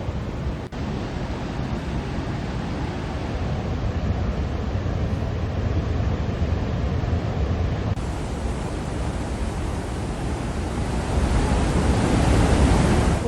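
Floodwater roars out through the opened gates of the Salal dam on the Chenab river, a loud, steady, unbroken rush that swells slightly toward the end.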